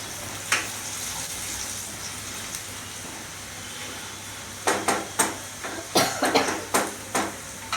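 Dried red chillies and asafoetida hit hot oil in a home kitchen, starting with a soft hiss and then breaking into a run of sharp, crackling sizzle bursts over the last few seconds, close and fairly loud, with no talking.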